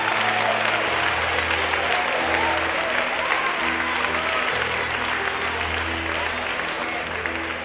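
A church congregation claps steadily and loudly throughout, a dense continuous wash of applause mixed with voices calling out praise, under a low sustained musical tone.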